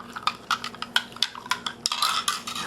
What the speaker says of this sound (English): Kind of stir it around a little bit.